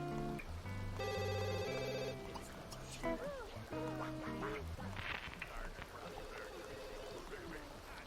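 A phone in The Sims 2 rings with tonal bursts repeating over a background of game music and ambient effects, with a voice talking over it.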